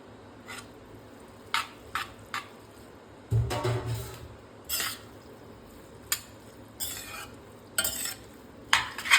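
Parboiled Maggi noodles for broccoli Maggi tipped into a pan and stirred, a soft plop followed by irregular scraping and clinking of a utensil against the pan over a faint sizzle, with no voices.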